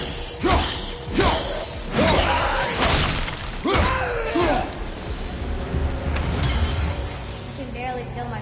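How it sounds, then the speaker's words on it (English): Objects shattering under weapon blows in God of War, a string of loud crashing impacts with debris and whooshes about every second, heavy and close, with game effects and a voice talking over parts of it. "Never get tired of shattering things with this."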